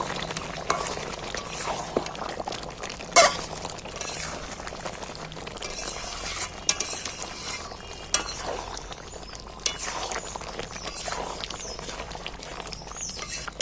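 Chicken pieces being pressed down and sautéed in a pan with salt and released juices, a continuous sizzle and frying hiss with occasional clinks and scraping stirs of a utensil, steady and close without talk.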